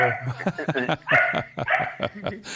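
A dog barks and yips in quick, irregular bursts, fairly close, mixed with a few whimpering notes and people talking in a studio.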